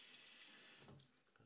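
Tap water runs steadily into a shaving soap tub during a wet shave, a close, bright rushing hiss that thins and breaks up toward the end.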